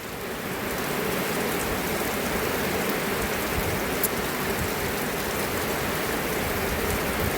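Steady rain falls at a house building site where a boundary wall is going up, a dense even hiss of drops on surfaces that holds constant throughout with no talking.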